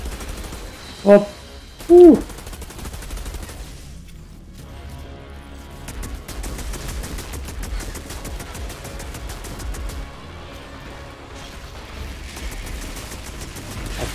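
Rapid gunfire in the shooter video game Outriders Worldslayer during a boss fight, long stretches of fast crackling shots running steadily under game sounds, with a short exclamation from a voice early on.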